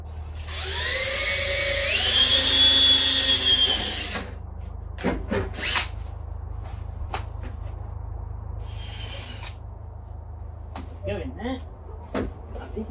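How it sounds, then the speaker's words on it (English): A power drill whines at high pitch for a few seconds, drilling holes into an aluminium ladder rung, then stops, followed by clattering, knocks and someone speaking briefly. "So I'm going to drill all the holes first and then just drop a few screws in"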